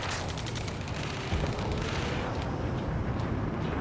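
Dense, continuous roar of gunfire and explosions in the Ace Combat 7 combat game, loud and sustained with no pauses and no voices on top.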